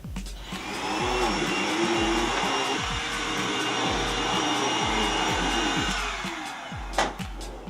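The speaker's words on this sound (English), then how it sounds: "and then we're gonna vacuum." A vacuum cleaner runs steadily on carpet, pulling up baking soda spread over it, with a loud continuous motor whine and roar, short scraping pushes rising and falling beneath, and a brief bump near the end.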